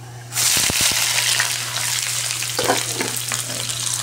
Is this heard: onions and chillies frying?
yes